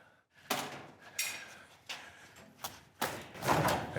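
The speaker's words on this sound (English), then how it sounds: "It's time to pull this mold off the car." A foam mold is pried off a custom car body in a garage, giving a series of sharp cracks and dull thuds spaced apart, close by and fairly loud, with a heavier burst of crackling near the end.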